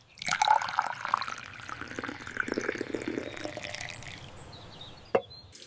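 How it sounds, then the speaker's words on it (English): Juice pours into a glass in a steady, close splashing stream that slowly changes pitch as the glass fills, ending with a small clink. "I'm filling a glass with some juice."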